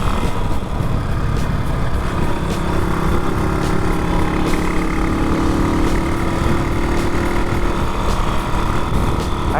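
A 160cc Moto Guzzi Stornello motorcycle engine runs steadily in top gear, a loud continuous drone throughout with no pauses.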